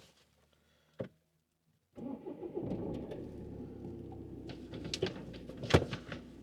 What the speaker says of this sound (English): So you go ahead and get this vehicle started